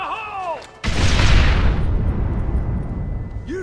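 A loud explosion in Red Dead Redemption bursts suddenly after a brief voice, then rumbles on with a long, heavy decaying roar and debris noise. A voice is heard at the start and briefly again at the end.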